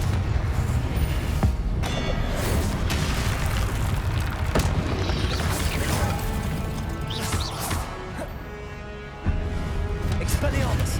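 Repeated booming blasts from the Confringo spell in Hogwarts Legacy crash through a dense, continuous game soundscape of combat noise and music during a Percival Rackham trial fight.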